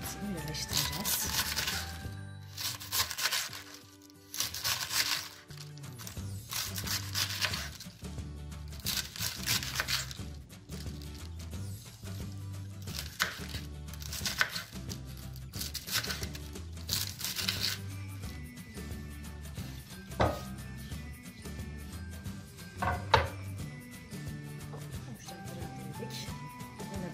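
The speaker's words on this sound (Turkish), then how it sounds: "Şöyle doğrayabiliriz. İnce ince doğrayacağız." Cabbage finely shredded with a knife for coleslaw, a rapid run of crisp repeated cuts close by, with a voice speaking over the chopping.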